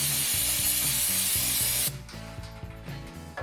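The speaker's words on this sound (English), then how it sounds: "I want to take some brake clean and just get whatever's left" A steady, loud hiss of brake cleaner spray on a 2016 Ford Edge rear brake lasts about two seconds, then cuts off abruptly, leaving faint rattling and rubbing sounds.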